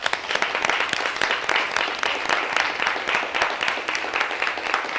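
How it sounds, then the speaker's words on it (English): An audience at a business funding event claps steadily, a dense wash of many hands filling the room with even, sustained applause at moderate loudness and no voice on top. "Can we clap up for that?"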